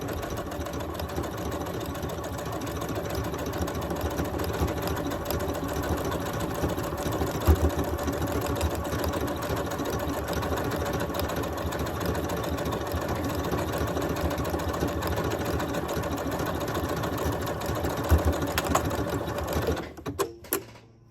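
A sewing machine runs steadily for about twenty seconds as it stitches sample decorative stitches on scrap fabric, giving a close, even mechanical whirr with a rapid rhythmic needle beat that stops abruptly at the end.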